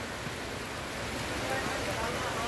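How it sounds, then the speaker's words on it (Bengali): Heavy monsoon rain pouring down outdoors, an unbroken broadband wash of falling water that stays steady and fairly loud. "অঝার ধারা বৃষ্টি হচ্ছে।"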